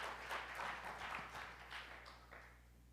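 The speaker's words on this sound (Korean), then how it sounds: "박수 한번 주도록 하겠습니다" A congregation claps during a church service in a children's department worship, a soft, fairly steady patter of applause heard from a distance over a low electrical hum.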